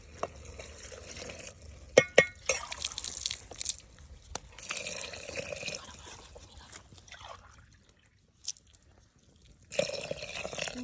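Water pours and splashes into a cooking pot for biryani in irregular bursts, with drips and trickles between them and a quiet pause before the pouring resumes.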